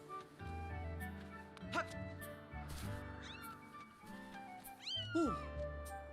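A cat in The Legend of Zelda Skyward Sword HD meows several times, with short calls scattered through the clip and a louder rising meow near the end, all over continuous game music.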